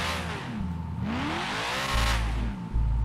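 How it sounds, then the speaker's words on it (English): Motorbike engine in the FiveM roleplay game revving and accelerating, its pitch sweeping up and down in repeated surges, fairly quiet and heard alone without speech. "I love the engine sound"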